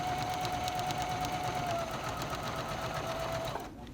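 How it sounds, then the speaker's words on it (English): A sewing machine runs a straight seam joining two pieces of fabric, its fast, even mechanical whir steady and close, then cutting off abruptly at the end. "I'm just going to sew straight down, joining these two pieces of fabric 5/8 of an inch or 15 millimeters away from the edge."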